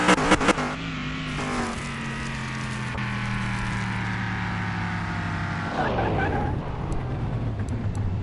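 A loud car engine in the video game Car Mechanic Simulator 2021 revs hard and holds a high, straining pitch, then drops and revs up again near the end.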